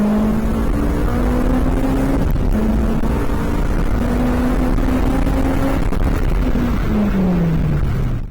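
Supercharged Honda S2000 pulling hard on a racetrack run from 60 to 100 mph, the engine note climbing steadily through gear changes over loud wind and road roar, heard from inside the car.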